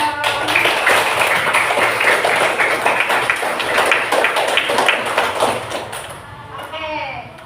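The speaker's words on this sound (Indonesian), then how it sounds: "beri tepuk tangan lagi dong." A class of schoolchildren clapping hands together in a classroom, a loud sustained burst of applause that fades near the end as voices come in.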